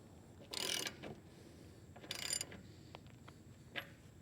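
A 1/2 inch ratchet gives two short, close ratcheting bursts while snugging a Ford cabover fuel tank bolt, then a few faint isolated ticks in a quiet space.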